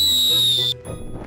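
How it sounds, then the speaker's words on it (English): Shrill steady whistle blown into a phone, a loud sustained high tone that cuts off abruptly, followed by quieter low rumbling noise. "Once I even picked up my whistle"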